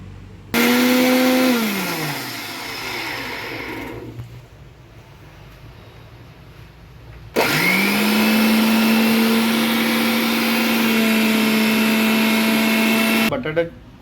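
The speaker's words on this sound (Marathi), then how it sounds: "मिक्सरमध्ये वाटून घ्यायचा आहे" A mixer grinder grinding spice paste whirs loudly in two long bursts, winding down in pitch after the first, with a short quiet pause between runs.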